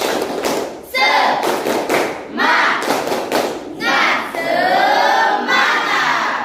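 A school class performs tepuk semangat, the rhythmic spirit clap, in bursts of loud, tightly grouped claps close by, with children shouting in chorus between the patterns.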